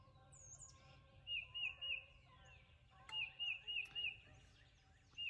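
A wild turkey gobbles on public land in Arkansas, two clear bursts of rapid rattling gobbles, several in quick succession each time, faint and distant over quiet background with scattered bird chirps.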